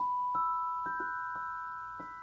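Soft hammers strike metal bars in a celeste-like glockenspiel tone. A handful of bright, bell-like notes ring in a short, gentle sequence, each leaving a sustained pure tone that decays quietly.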